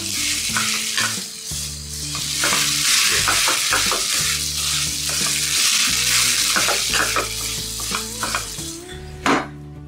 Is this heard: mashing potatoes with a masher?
yes